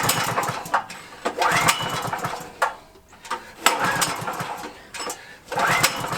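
A home backup generator engine is pulled and started: several bursts of mechanical churning and sputtering separated by brief pauses, close and fairly loud, with no talking.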